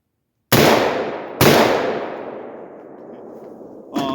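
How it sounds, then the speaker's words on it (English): Two loud, sharp shots from a 5.56 rifle fitted with a Deer Creek Stealth Blast suppressor, about a second apart, each ringing out in a long decaying tail, with a brief metallic click at the end. "Let's shoot this again."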